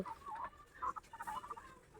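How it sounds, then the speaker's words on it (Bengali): Roosters fighting at close range, giving a rapid string of sharp clucks and squawks in uneven bursts over two seconds, with no talking. "দেখো মোরগের যুদ্ধ"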